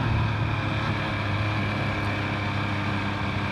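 MV Agusta Brutale 800RR naked motorcycle cruising on a freeway, a steady loud engine drone blended with rushing wind noise, continuous and unbroken throughout.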